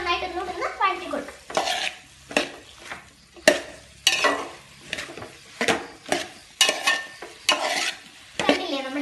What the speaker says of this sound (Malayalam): അതിന് ശേഷം നമുക്ക് നന്നായിട്ട് ഒന്നുകൂടെ വഴറ്റി കൊടുക്കാം